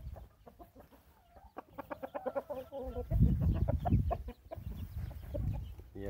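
A gold-coloured Indian gamecock rooster and its chicks give a quick run of clucks and chirps near the microphone, then someone talks over softer clucking.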